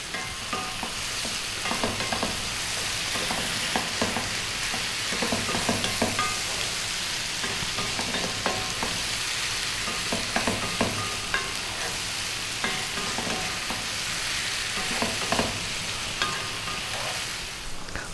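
Eggplant and potato dry fry curry frying over fairly lively heat, a steady close sizzle with intermittent scraping and clacking as the pan is stirred every now and then.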